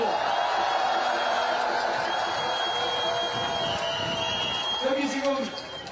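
A dense crowd of supporters claps and cheers steadily at a political campaign rally in the packed plaza of Seoul Station, with a continuous broad wash of applause that swells briefly near the end.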